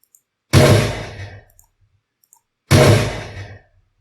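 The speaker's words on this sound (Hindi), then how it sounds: "this is the gun shot" A game's gunshot sound effect file played back twice, each a sharp, loud, close blast with a decaying tail, separated by about two seconds of silence.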